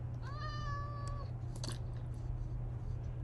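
A single drawn-out, rising Minecraft cat meow near the start, followed by a faint click and steady low background hum, no talking.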